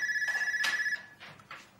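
A telephone rings in a steady trilling burst for about a second, with faint voices and indoor bustle trailing after it.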